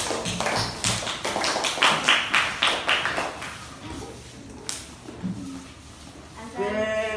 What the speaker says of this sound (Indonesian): kita tepuk tangan buat kelompok 2